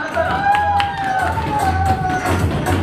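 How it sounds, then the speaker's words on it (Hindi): A crowd at a beautician course fashion show claps and cheers, with a dense wash of applause, shouts and whistle-like tones running throughout, mixed with voices and a low rhythmic thump of background music. "तो भरपूर तालियां एक दफा फिर इनको शोर के साथ जरा"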